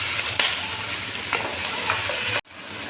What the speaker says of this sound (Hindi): हमारा ऑयल तेज़ गर्म हो गया था तो मैंने ये मटन शामिल कर दिया है, और इसको खूब अच्छी तरह से फ्राई कर लेंगे